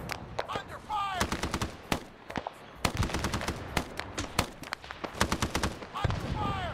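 Rapid bursts of RPD machine gun fire in the SOG video game, sharp repeated shots in clusters with brief pauses, loud and close, with a voice speaking in between.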